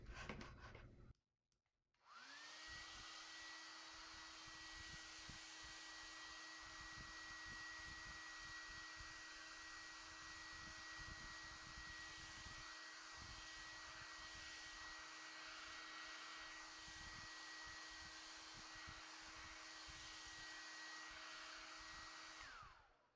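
A hair dryer starts after a brief pause and then runs with a steady, loud whir and high whine, drying a watercolor cityscape painting of a street in old France.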